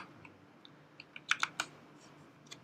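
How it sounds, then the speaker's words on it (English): Keys clicking on a computer keyboard in a quiet room, a few scattered soft taps followed by a short cluster of sharper strokes and one last tap, fairly close. "Stop typing."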